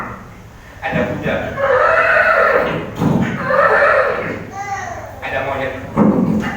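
A voice imitates a horse neighing, with rising and falling whinny-like cries repeated several times while telling a story aloud.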